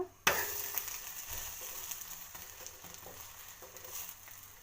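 Avalakki dosa cooks on a pan, opening with a sharp loud hiss as it meets the hot surface, then settling into a softer steady sizzle that slowly fades, with a few faint taps.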